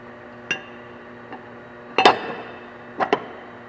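A few dull dead blow hammer taps on a golf cart transaxle case, spaced out: a single tap, a faint one, then a close double tap and another pair, with a light ringing afterward.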